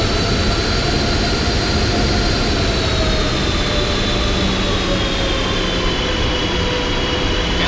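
Steady, loud airliner engine roar from a Boeing 737 or Airbus A320 in the Aerofly FS Global flight simulator, a continuous jet drone with faint whining tones that slowly shift pitch, heard alone.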